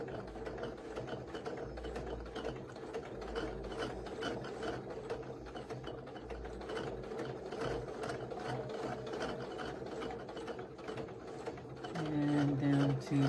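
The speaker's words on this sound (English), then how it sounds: "I like using my open toe foot so I can see where I'm stitching." A sewing machine fitted with an open toe foot stitches steadily through quilting fabric, a continuous mechanical whir with a faint rhythmic clatter that grows slightly louder near the end.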